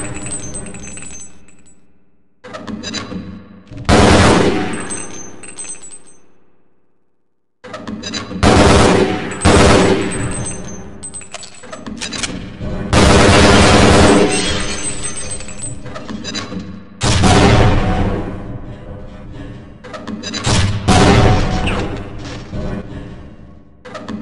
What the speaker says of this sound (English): To fire the grenade launcher, use the alternate fire button